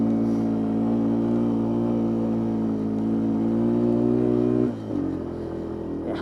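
Yamaha three-wheeler engine droning steadily under load in third gear off-road, a loud, sustained, labouring hum that holds for about four and a half seconds before dropping sharply as the throttle eases.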